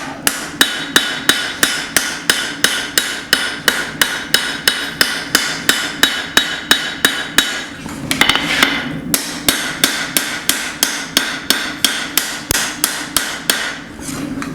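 Steady, rhythmic hammer blows ring out on a Serbian knife blank being forged with a Barr Run forge, about three strikes per second, loud and close, with a brief pause for repositioning midway.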